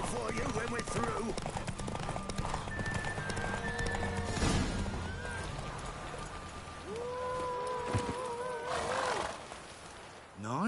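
A horse gallops in a race in The Witcher 3, hoofbeats thudding steadily under game music and ambience, with a whinny partway through and voices talking.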